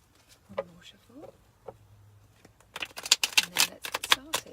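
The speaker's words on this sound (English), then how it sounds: "A couple more shuffles." A few soft voice sounds, then a burst of quick papery riffling as tarot cards are shuffled close by, in rapid uneven flutters.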